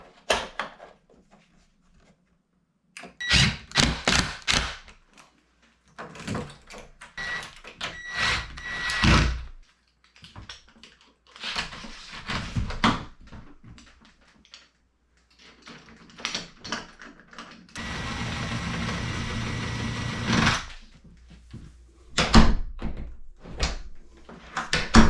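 An interior pre-hung door handled during doorknob installation: repeated clicks, rattles and knocks of the latch and hardware in bursts, with a stretch of steadier rubbing noise and brief silences between.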